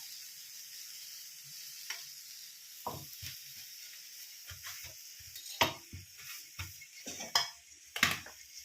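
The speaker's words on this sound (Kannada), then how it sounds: "ಅದಕ್ಕೆ ಒಂದು 4 ಸ್ಪೂನಷ್ಟು ಎಣ್ಣೆ ಹಾಕ್ತಾ ಇದ್ದೀನಿ." Oil is poured into a pan for cooking bitter gourd, starting as a faint hiss and turning into scattered spits and crackles, with utensil clinks toward the end.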